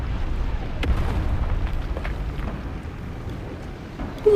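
A tank in War Thunder Mobile taking a shell hit, a deep rumbling boom that rolls and decays over several seconds, loud and heavy, with a sharp new burst near the end.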